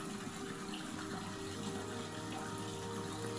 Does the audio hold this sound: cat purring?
no